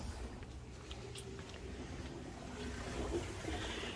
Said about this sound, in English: water is starting to fill.